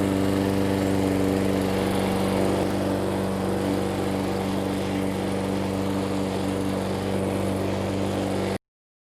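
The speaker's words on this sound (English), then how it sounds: "First mow with the personal pace Toro." A Toro Personal Pace lawn mower mows new ryegrass, its engine a steady, loud, close drone that runs unbroken before cutting off abruptly near the end.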